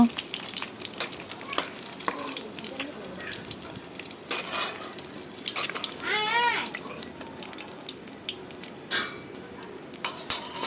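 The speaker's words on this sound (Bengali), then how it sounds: "দেখো ডিমগুলো লাল লাল করে ভেজে নিলাম" Eggs fry in hot oil until browned for a Bengali egg curry. There is a light crackling sizzle, with irregular scrapes and clinks of a utensil against the pan. A brief faint sound is heard partway through.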